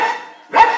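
A mimicry artist performing at an Ugadi show imitates a big dog barking, two loud, close, gruff vocal barks, the second sharper and heavier, with no other talk.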